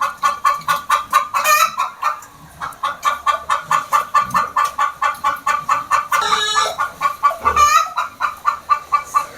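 Chickens clucking busily and close, with dense rhythmic repeated clucks and a few louder squawks standing out, and no talk.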